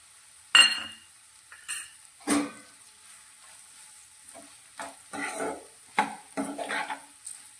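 Spice mix being stirred into okra curry in a pan: a faint sizzle runs underneath while spoon scrapes and clinks sound in several short bursts, close by.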